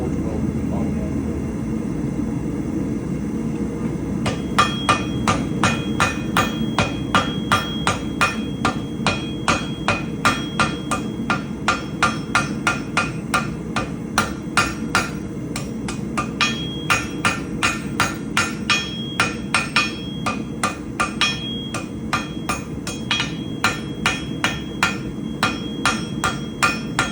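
Forge welding a loop in round bar, struck on an anvil: a long run of steady, ringing hammer blows starts after a few seconds and continues in an even rhythm over a constant low roar, likely the forge.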